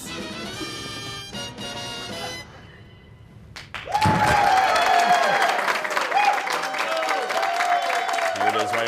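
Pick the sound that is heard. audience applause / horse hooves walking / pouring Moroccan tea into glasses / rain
audience applause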